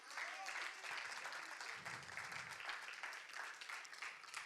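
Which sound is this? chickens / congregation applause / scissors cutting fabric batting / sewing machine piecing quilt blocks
congregation applause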